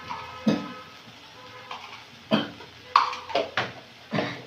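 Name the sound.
stirring and frying boiled potatoes in spice paste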